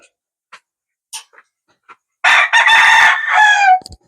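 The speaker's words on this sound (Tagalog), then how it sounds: "may manok. May manok. May duha ka manok." A loud, close rooster crow rings out after a few short clucks and scratchy sounds, ending the clip with its drawn-out call.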